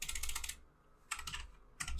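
A command is typed on a computer keyboard in two quick bursts of close, soft key clicks separated by a short pause, with no voices.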